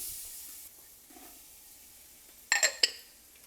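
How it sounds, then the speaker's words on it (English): Soft sizzling of vegetables cooking in a roux in a pan, then a few sharp metallic scrapes and clinks of a spoon near the end. "we got them sizzling right now"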